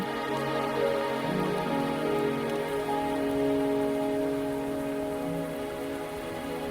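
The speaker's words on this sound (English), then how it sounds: "Are you trapped here by the rain?" Rain in a video game patters steadily on a surface throughout, with a low musical drone underneath; no voices.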